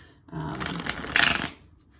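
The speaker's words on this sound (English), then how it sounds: "I have to work on that shuffling." Tarot cards being shuffled by hand: a dense, papery riffle that rises after a brief quiet start, swells near the end of the burst, then stops, heard close and alone.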